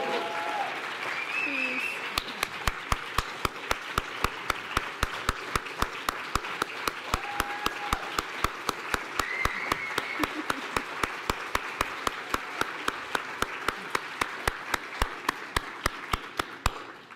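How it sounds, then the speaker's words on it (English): A conference audience at a family gathering gives sustained applause with a strong, even rhythm of claps. Voices can be heard over the clapping at the start. "can we take 1 minute and just give Carol a big round of applause"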